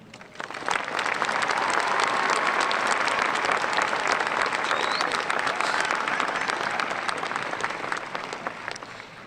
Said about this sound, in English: let's give them all our most enthusiastic round of applause as they walk across the stage.